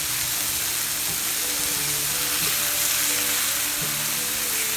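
Burgers sizzle steadily on a cast iron griddle, a continuous bright hiss of frying fat with faint scraping and metallic clinks underneath, close and even throughout.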